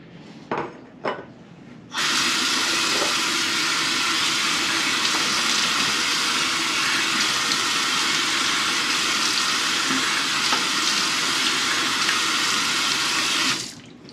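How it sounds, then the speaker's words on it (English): A bathroom sink tap opens with a couple of knocks, then water runs in a steady, loud, close splash for about twelve seconds before it shuts off, with no talk. "Let me get my face washed off real good."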